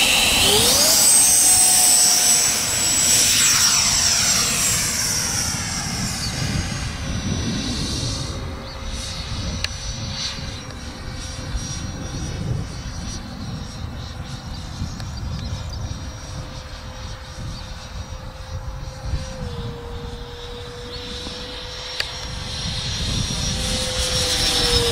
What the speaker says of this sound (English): Here he goes, his second flight of his Hawker Seahawk.